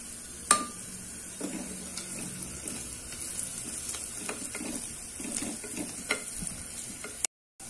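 Onions sizzle and fry in a pan as ground cinnamon and clove powder are added for a hotel-style kuska biryani, with steady crackling, a few stirring clinks and scrapes, and no voices.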